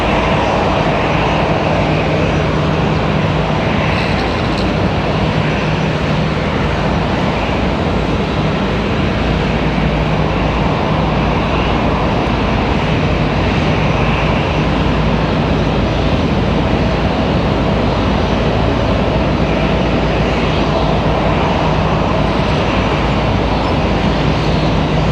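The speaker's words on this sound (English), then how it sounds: "American 777's already on the move. I hear it." An American Airlines Boeing 777 starts moving at Raleigh-Durham International Airport, and its jet engines give off a broad, even roar. The noise holds steady and strong for the whole stretch, with no voices on top.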